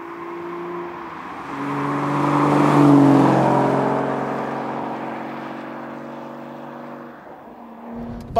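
An Aston Martin V8 Vantage S driving on a sunny summer day, its engine droning steadily with a swelling rise in revs and then easing off, close and continuous with no talk.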